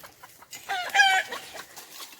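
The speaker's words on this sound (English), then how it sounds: "So there's chickens above my head." Chickens clucking from a coop above, a rooster's bursts rising among the soft fowl calls, fairly close with a louder flurry midway and quieter clucks trailing off.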